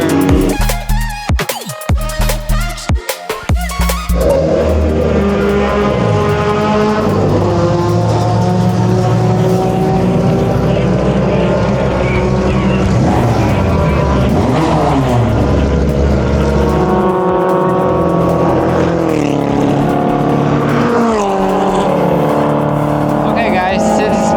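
A Mini Cooper race car engine roars continuously during an endurance race at Clark Speedway, loud and sustained with shifting pitch as it laps, after a few seconds of choppy noise at the start.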